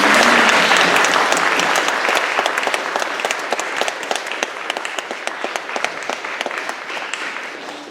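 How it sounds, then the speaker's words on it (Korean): A church congregation applauds at an elder installation service, a burst of many hands clapping that starts full and slowly tapers into scattered individual claps. "박수 주시기 바랍니다"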